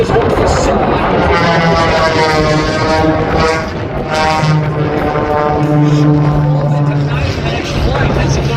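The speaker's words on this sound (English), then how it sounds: "he now rolls the airplane to the left, turns to the left as he's cut one of those ribbons with his airplane" An airplane flies aerobatic rolls and turns, cutting ribbons at an October 2022 air show in North Little Rock. A loud continuous engine drone runs throughout while an announcer talks over it.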